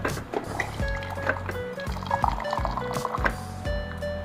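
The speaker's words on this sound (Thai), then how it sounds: "แล้วก็เอาน้ำร้อนมาที่ 100 ml ค่ะ" Hot water is poured, about 100 ml, onto tea powder in a cup or jug while making tea. It sounds like a continuous close splashing trickle with a gently rhythmic gurgle, and a voice murmurs faintly underneath.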